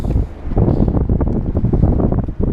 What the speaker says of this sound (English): Wind's blowing on these rocks.